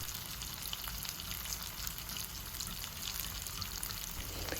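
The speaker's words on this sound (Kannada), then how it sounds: "ಮೀಡಿಯಮ್ ಫ್ಲೇಮ್ನಲ್ಲಿಟ್ಟು ಫ್ರೈ ಮಾಡಿ." Rava-coated bangda fish fries in a pan of oil over medium flame, giving a steady, dense sizzle that carries on evenly throughout with no voices.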